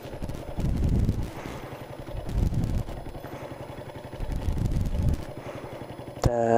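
A motorcycle left covered for months fails to start: rhythmic, cranking, chugging bursts come close and loud, sputtering out between tries, with a short sharp clank at the end.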